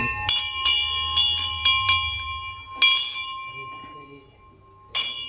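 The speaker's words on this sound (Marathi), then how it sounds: "घंटी बजा दी." A bright metallic temple bell at a Sai Baba temple is struck repeatedly, about six rings in quick succession with sustained ringing tones, then a pause before one final strike.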